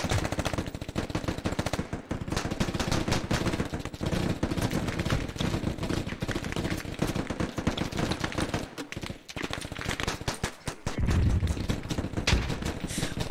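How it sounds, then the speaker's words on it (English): Sustained automatic gunfire from the military shooter game Squad, with magazines emptied in long dense bursts that run almost without pause, loud and continuous throughout. "They're just mag dumping everything."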